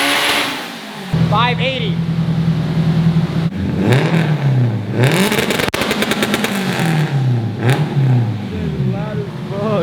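A 700hp Honda Civic Type R engine revs hard on a dyno, a loud sustained drone rising and falling through several sweeping pulls, with voices talking over it.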